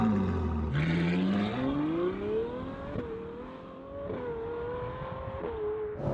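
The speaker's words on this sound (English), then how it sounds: "I think this is about as good as an exhaust sound as you can get from anything." A Novitec-tuned Ferrari 812 accelerates hard, its exhaust rising in pitch through a long pull, easing off briefly, then climbing again in a loud, close, sustained engine note with no talking.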